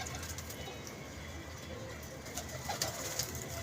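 Pigeons cooing at a pigeon club loft, a soft steady murmur of several birds close by with a few brighter calls and faint rustles near the end.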